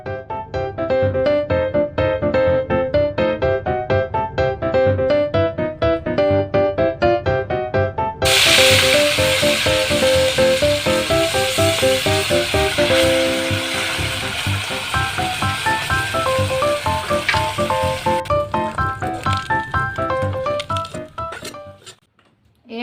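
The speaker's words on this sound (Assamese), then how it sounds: "এতিয়া মাছখিনি নিমখ হালধি সানি আৰু ভাজিবলৈ আৰম্ভ কৰোঁ" Small puthi fish coated in salt and turmeric sizzle in hot oil, a steady broadband hiss in the middle stretch. Continuous music plays over it, and the frying sound fades again near the end.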